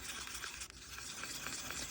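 Bronze mica powder being stirred into polyurethane resin, a steady close scraping and swishing of the stirrer against the cup that runs continuously for about two seconds with no talk.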